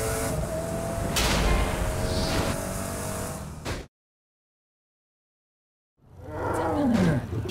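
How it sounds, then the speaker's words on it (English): A tiger roars loudly from inside a car in the video game Saints Row: The Third Remastered, two long close growling roars separated by a stretch of complete silence. "He put a tiger in my car."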